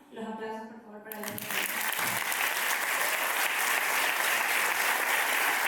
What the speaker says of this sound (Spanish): Y ahora sí, los aplausos por favor para